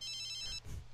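A telephone rings in The Sims 3 game, a fast electronic trilling ring near and clear for about half a second before a soft thump follows.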